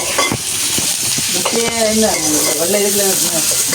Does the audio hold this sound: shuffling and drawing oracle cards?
no